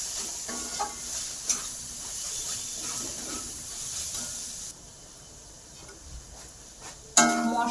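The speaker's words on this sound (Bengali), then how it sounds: "মশলাটা কম আঁচে কষতে হবে, নইলে তলায় লেগে যেতে পারে" Spice paste stir-fried on low heat for a fish chop: a soft, steady sizzle and hiss with scattered scraping clicks from stirring, quiet throughout, with a sharper scrape near the end and no talking.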